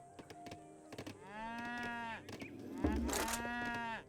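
Cattle mooing inside an Age of Empires 3 match, several drawn-out, tonal moos rising and falling, loud and close, with short clicks and a thud between calls.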